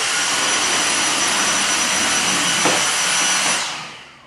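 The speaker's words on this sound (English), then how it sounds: "you can just bring your vacuum back across and go to the left side again." A vacuum cleaner roars close up in a room, holding a loud, steady whine before it winds down and fades near the end.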